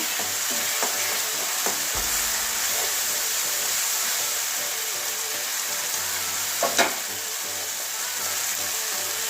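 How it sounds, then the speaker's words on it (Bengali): Spice masala with grated tomato sautés in a pan for a Bengali katla fish curry, giving a steady sizzle under occasional spoon scrapes and a couple of knocks, with no voices. "টমেটো একটা দিয়ে দিচ্ছি মানে একটা টমেটো ঘষে নিয়েছি এবারে ভালো করে মশলাটা কষাবো"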